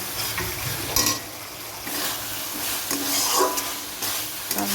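Soybean chunks are stir-fried in spice masala in a pan, a busy crackling sizzle with frequent scraping and clattering of a spatula against the metal, close and without speech.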